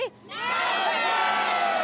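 A large crowd at an outdoor evening holiday event with Santa bursts into loud, sustained cheering and whooping after a brief lone shout, the roar holding steady at full strength.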